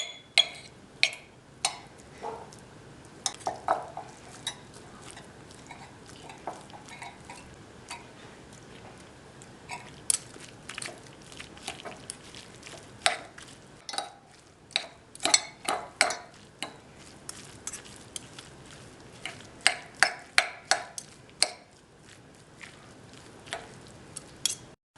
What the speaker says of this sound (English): Now what I'm going to do is just pull the meat apart